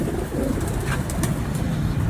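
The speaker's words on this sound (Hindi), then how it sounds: "ये मामदीन कबूतर है।" A Mamdeen breed pigeon kept among breeder pigeons in Gujrat coos softly in low, rounded murmurs, close by, over a steady background hum.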